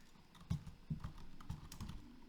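Quiet computer keyboard typing as a prompt is entered into ChatGPT, a handful of soft, spaced keystrokes tapping close by with no talk.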